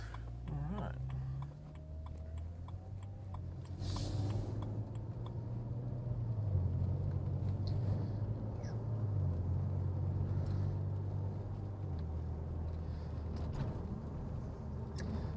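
Engine hum from inside a BMW E92 335i with a couple of vehicles whooshing past nearby, a faint ticking underneath.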